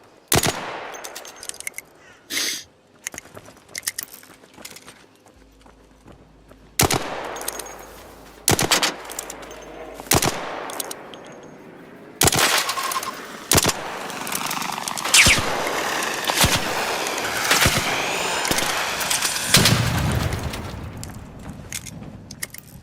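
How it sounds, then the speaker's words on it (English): Gunfire in the video game Arc Raiders: loud, sharp shots and rapid automatic bursts, scattered at first and then dense and sustained, with no voices heard. "They're shooting."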